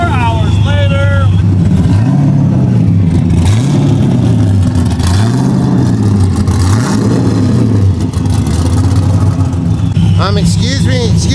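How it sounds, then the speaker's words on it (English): A car engine revs repeatedly at a car show, rising and falling in loud surging waves over a continuous idle rumble, with voices heard nearby. "Can you please not rev your engine?"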